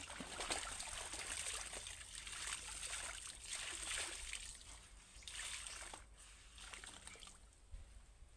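River water flowing and trickling steadily through a quiet stretch of river, a soft, continuous wash with faint splashes, moderately distant and low in level, no voices.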